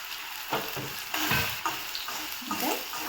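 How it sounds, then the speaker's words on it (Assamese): Soybean chunks frying in hot oil crackle and hiss steadily, with several louder bursts of sizzle and spatter as they are moved around the pan. "তেল গৰম হৈছে এতিয়া মই সয়াবিনখিনি ইয়াতে দি দিলোঁ"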